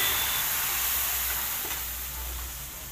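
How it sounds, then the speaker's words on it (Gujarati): Chilli powder mixture hitting hot oil in a kadai, a steady close broadband sizzle that stays strong and then eases slightly toward the end, with no voices. "ત્યારબાદ તેમાં આપણે મરચાનું જે ભૂસું રેડી કર્યું હતું તે નાખીશું"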